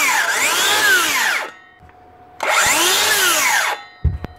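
A DeWalt DCS575 54V cordless circular saw spins up twice, each burst a loud high whine running about a second before winding down, with a short quiet gap between runs and a brief clunk at the end.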